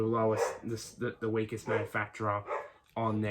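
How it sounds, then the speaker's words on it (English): A dog barks in the background while someone talks steadily over it about the 2021 Supercross 450SX season; the barks are fairly quiet and partly buried under his voice. "Sorry for the dog bark in the background."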